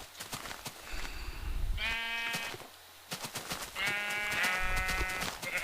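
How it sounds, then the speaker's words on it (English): Minecraft sheep bleat twice, loud and close, each a wavering nasal cry, over a bed of clicking footsteps and game background noise. "Derpy little sheep, come on."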